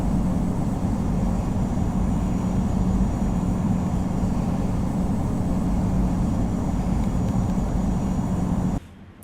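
In the Infinite Flight game, an airliner's engines hold a steady, loud, broad roar at JFK before it cuts off abruptly at the end.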